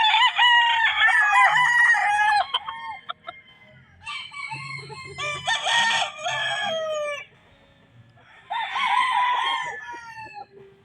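Gamefowl roosters on a game farm crow in three loud, close bursts, each a long rising and falling cock-a-doodle-doo separated by short pauses, with faint clucking and farm noise between.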